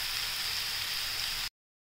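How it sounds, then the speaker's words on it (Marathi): Garlic sautés in a pan while making zunka, a steady bright sizzle that runs evenly for a second and a half, then cuts off abruptly. "आता लसूण पण याच्यातच परतून घेऊ आपण"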